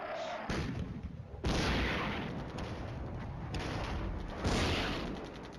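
Artillery barrages in the war game Flashpoint Campaigns Red Storm, with heavy booms and dense rolling blasts that swell and ease in loud waves across the whole stretch.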